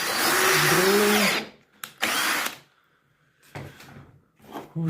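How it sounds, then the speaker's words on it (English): A power drill bores into an old wooden door during restoration, a loud whining burst lasting over a second, then shorter drilling bursts with pauses and clunks between them. "drilling"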